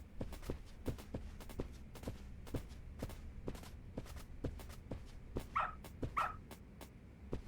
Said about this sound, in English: When it comes to smells, we're getting a dog.